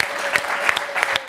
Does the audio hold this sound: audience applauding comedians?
yes